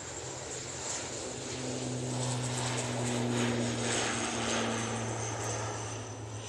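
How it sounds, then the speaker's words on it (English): A Ryanair ATR 72 turboprop rolls for takeoff at Manchester Airport, its propeller drone holding steady low tones over a broad engine roar that rises and eases over several seconds, with no voices. "Ryanair, not Aer Lingus, now on the roll. ATR 72, going back to Belfast."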